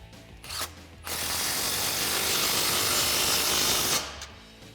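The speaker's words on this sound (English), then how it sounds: "I'm going to start with our over axle pipe using a 15mm deep socket." A ratchet with a 15mm deep socket tightens an exhaust clamp on a Jeep Wrangler JL 3.6L axle-back exhaust: a short burst of clicks, then a long continuous rapid ratcheting run, close up with no talk.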